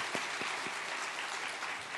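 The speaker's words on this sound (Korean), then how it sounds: "우리 새벽같이 나온 우리 어린이 찬양들 위해서도 한번 격려의 박수 부탁드립니다" A congregation at a special dawn prayer service claps in encouragement for a children's choir, a dense, even wash of applause with a few louder claps near the start, filling the room.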